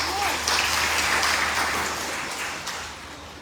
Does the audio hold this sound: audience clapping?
yes